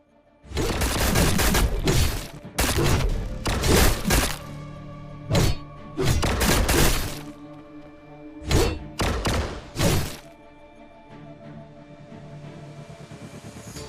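Gunfire in the RF Online Next game, repeated bursts of sharp loud shots in rapid clusters separated by short gaps, fading to a quiet hum near the end.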